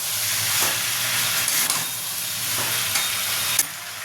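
Fried prawns, pointed gourd and fried potatoes sauté together with spices in a pan, giving a close, steady hissing sizzle broken by a few scraping stirs of a spoon, with no talking.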